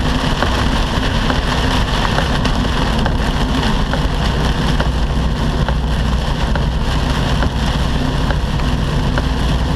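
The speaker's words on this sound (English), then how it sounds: "Still raining. Just a little." Steady heavy rain drumming on a semi-truck in Chicago, a dense continuous patter over low rumbling and wind, loud and unbroken throughout.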